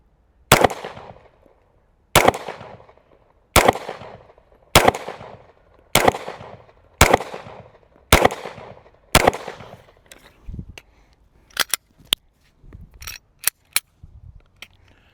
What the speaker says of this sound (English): So I'm not sure how many shots was that, but grouping's good.